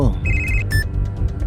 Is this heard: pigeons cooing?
no